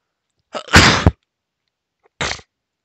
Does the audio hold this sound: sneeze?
yes